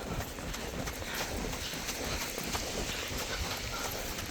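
A horse trots steadily along a snowy trail, its hooves clip-clopping in an even, continuous rhythm under a constant wash of outdoor noise.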